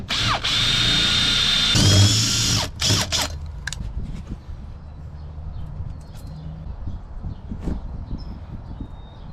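Power drill running on a K24-swapped EG hatch during a billet shifter box install, a loud sustained whine for about two seconds with brief bursts after, then quieter shop clatter and faint handling noises.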